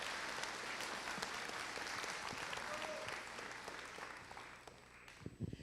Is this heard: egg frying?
no